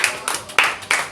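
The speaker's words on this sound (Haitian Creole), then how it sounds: "On applaudit Kémy tout le monde." An audience claps for a newly welcomed guest at a community event, with a few bursts of hand claps rising and fading over a short moment, fairly close and without talk.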